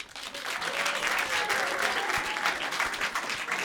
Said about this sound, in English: And by a round of applause, how many of you are dog people?